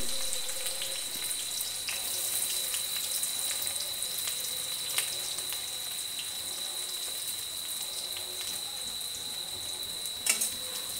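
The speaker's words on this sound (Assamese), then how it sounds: "আৰু ইয়াতে কাটি থোৱা পিঁয়াজখিনিও মই দি দিম।" Chopped onions fry in mustard oil in a wok, giving an even, continuous hiss with faint crackles and one brief clatter near the end.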